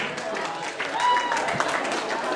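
Audience applause welcomes an assistant onto the stage at a Procamp 2008 infotainment show: moderate clapping that swells slightly midway, with voices and a faint tonal sound mixed in.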